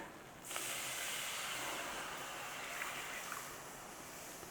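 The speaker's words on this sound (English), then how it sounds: "Chuck in your milk." Milk poured all at once into a saucepan for a traditional British egg sauce, a steady, close rushing hiss that starts abruptly and holds for several seconds, with faint stirring clicks underneath.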